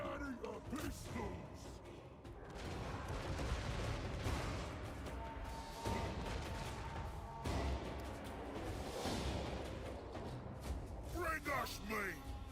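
Pistol gunfire in a co-op dragon-riding video game: a run of sharp, rapid shots and crashing impacts set against a busy game soundscape, with people talking over the action.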